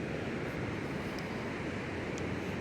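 Ocean surf rolls onto Rosarito Beach, Mexico, on a morning with small waves, a steady broadband wash with no distinct breaks and light wind, faint and even throughout.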